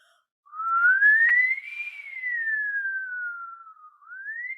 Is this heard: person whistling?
yes